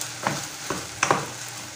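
Shredded dried beef filling is stirred in a hot pan, with three or four scraping strokes over a soft, continuous sizzle of frying, heard up close and alone.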